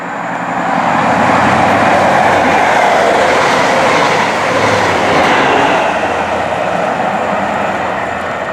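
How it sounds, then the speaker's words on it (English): An Edinburgh to Glasgow train passing through Falkirk High station with staggered platforms, a loud, sustained rumble and rail roar that swells and holds for several seconds close by. "Falkirk High, you just see the Edinburgh to Glasgow services passing through here"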